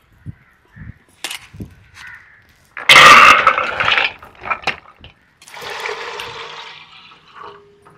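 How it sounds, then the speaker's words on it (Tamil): Water splashes and pours in a couple of short bursts to rinse chopped papaya, around intermittent clattering and small knocks, fairly close, with no talking. "இப்போ தண்ணியை ஊற்றி அலசியிருப்போம்"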